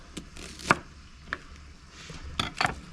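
A knife cutting shallots into quarters outdoors by a campfire, a few sharp chops on a board at irregular intervals against a low background hiss.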